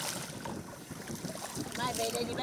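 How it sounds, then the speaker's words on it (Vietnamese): A rowing boat on rough water at Xuan Thuy National Park, its oars slapping the waves while wind blows steadily across the microphone, a continuous close rush of water and breeze. "chỉ có tiếng gió thổi nhẹ hòa lẫn tiếng mái chèo vỗ sóng của chị Cam và chị Thủy"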